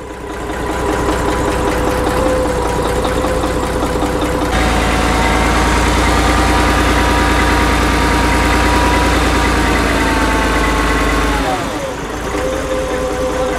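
An old bus diesel engine cranks and fires up, jumping into a loud, rough, close idle with a heavy low rumble and knocking, dipping briefly near the end before settling again.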